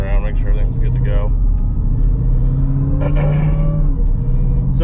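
A Hemi-powered car driving on a cold day, a deep steady engine rumble throughout with a brief higher clatter midway, someone talking over it.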